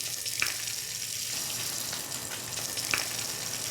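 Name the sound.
fish sizzling in butter in pan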